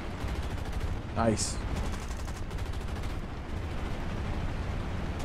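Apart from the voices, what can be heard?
aircraft gunners shooting in video game War Thunder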